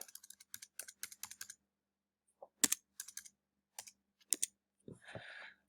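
Typing on a computer keyboard at close range, with bursts of quick clicking keystrokes, a pause, then more scattered key taps and a final soft rustle.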